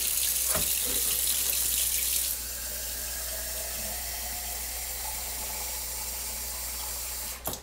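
A tap runs loudly for a couple of seconds, then the flow eases to a softer steady trickle before cutting off with a brief splash.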